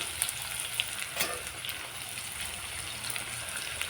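Green peas tipped into a hot pan fry with a steady, dense sizzle and crackle, close and continuous, with a few brief stirring clatters and pops on top.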